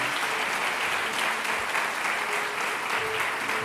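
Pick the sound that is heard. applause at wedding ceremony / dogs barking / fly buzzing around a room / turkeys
applause at wedding ceremony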